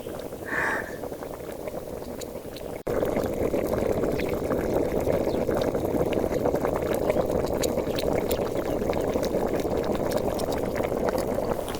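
Water at a rolling boil in a pot of ramen noodles with a live octopus, bubbling and roiling steadily and loudly, with a brief faint voice near the start.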